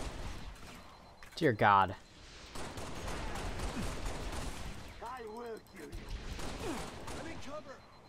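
Turret gunfire in the video game Halo Reach, a steady rattling stream of shots under game noise, with a short exclamation and in-game voices over it.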